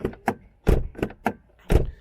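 A Volvo S80 2.4 D5 car door is shut and handled several times in quick succession, giving solid, close, muffled thunks with short gaps between them.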